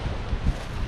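Wind blows on the North Beach at Great Yarmouth and buffets the microphone as a low, rumbling roar with a few stronger gusts, loud and close, with no voices.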